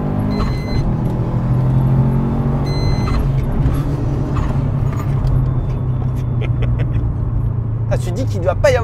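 A tuned Subaru Impreza WRX pulls hard from inside the cabin, a loud steady engine drone building under excited French conversation between occupants.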